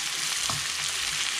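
Onion and garlic frying for a bagar tempering poured over nihari, a loud, dense sizzle with a brief stirring scrape, close and continuous.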